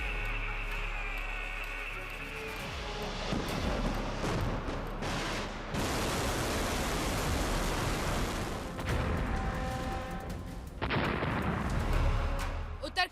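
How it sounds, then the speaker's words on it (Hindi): North Korean test missiles launch one after another, each a loud, sustained rushing roar that swells and shifts in abrupt sections, heard from a distance, with no clear pause between blasts. "उत्तर कोरिया ने एक बार फिर से मिसाइल का टेस्ट किया और एक के बाद एक कई मिसाइलें दागी हैं"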